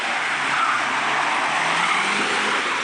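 A stock 2005 Mitsubishi Lancer Evolution VIII drifts around a narrow spot beside a long industrial building, its tires squealing steadily and loudly for the whole stretch with engine noise underneath, no voices.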